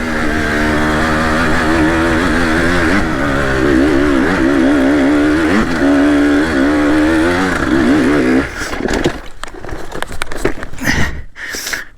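Hengjian Z300 Chinese two-stroke motorcycle climbing a steep hill in second gear, its engine droning and revving hard and close for about eight seconds before the note breaks off into sputtering and rough, uneven bursts.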